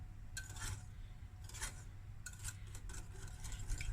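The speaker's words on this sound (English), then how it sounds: "Give it a stir." A spoon scraping and rubbing against a pot while stirring a rice pudding mixture, in a few soft, brief rasping strokes over a steady low hum.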